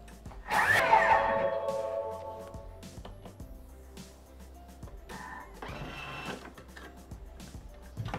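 A Thermomix (Bimby) food processor spins at speed 10 with lemon zest in the bowl: a loud whirring roar bursts in early, then fades to a lower hum under scattered clatter.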